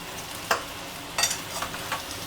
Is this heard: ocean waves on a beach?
no